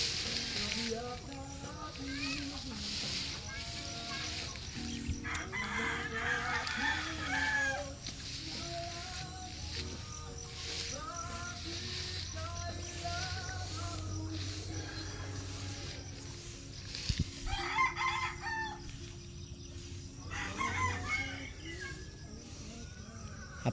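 A chicken in grassy undergrowth crows and clucks in intermittent, moderately distant calls, with rustling and outdoor background noise between them.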